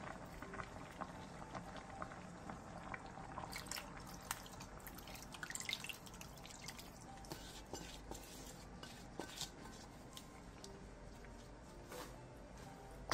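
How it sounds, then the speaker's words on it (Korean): Braised cutlassfish with vegetables and seasoning broth boils on high heat, a quiet continuous bubbling and popping with small irregular spits throughout, close and steady without speech. "센 불에서 끓여주세요."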